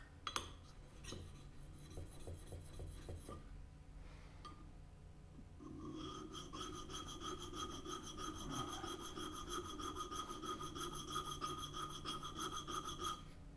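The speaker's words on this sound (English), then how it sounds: "next, sharpening" Woodworking chisels being sharpened, with a steady rhythmic rasping and rubbing of steel strokes on a stone, a few sharp clinks early on, then continuous close scraping.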